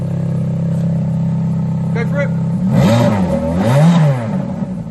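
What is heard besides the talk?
Ferrari F430 exhaust revving, valves opening and closing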